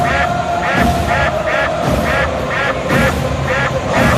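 Repeated duck quacks used as a sound effect during a live Atlanta Braves versus Nationals baseball broadcast, about eight loud nasal calls in a regular rhythm over a steady background hum.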